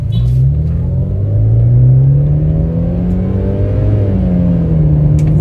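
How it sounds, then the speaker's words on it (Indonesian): A BMW E90 320i accelerates along a fairly empty road, its engine revving up in a loud, rising drone heard from inside the car, then easing back. "gue coba mau ngegas ceritanya"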